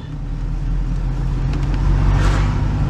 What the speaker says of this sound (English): So Steve, if you want to pull away in first gear, we'll get to about 15 miles an hour.